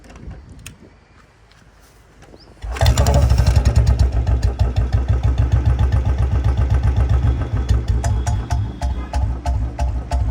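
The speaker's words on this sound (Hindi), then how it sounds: "ऐसी नॉर्मल साउंड होनी चाहिए भाई इंजन की, ठीक है।" A Royal Enfield Bullet motorcycle starts after a quiet moment and settles into a loud, close idle, its distinctive steady thumping beat pulsing evenly throughout.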